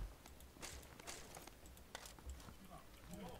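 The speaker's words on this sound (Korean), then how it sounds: "발소리." Footsteps from PUBG: Battlegrounds, a run of soft, fairly quiet steps at an uneven pace, with faint game background around them.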